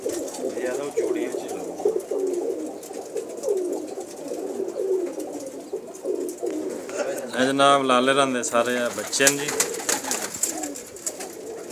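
Rare-breed pigeons coo in low, rolling calls that repeat throughout, close by, while someone talks over them. The cooing is loudest near the end.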